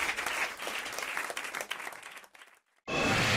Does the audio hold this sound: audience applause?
yes